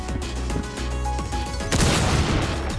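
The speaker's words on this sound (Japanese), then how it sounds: "銃声。" A burst of rapid gunshots in an animated story, loud and close, giving way to a heavy explosion-like crash near the end.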